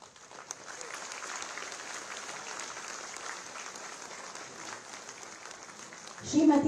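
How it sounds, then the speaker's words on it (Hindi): A crowd claps steadily at a housing key handover ceremony in Lucknow, a moderate even wash of applause heard from some distance, with a louder burst near the end. "जोरदार तालियां"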